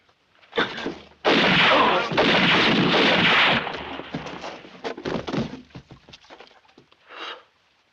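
Gunshots: a sharp blast followed by a sustained loud burst of rumbling fire for several seconds, trailing into scattered cracks and a final fainter report, close and forceful.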